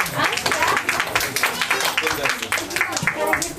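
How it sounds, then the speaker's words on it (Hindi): Children clapping in a dense burst of applause at a spiritual gathering, steady and fairly close, with voices mixed into the clatter throughout. "ताली हो जाए, ताली। बच्चों को तालियां बजा।"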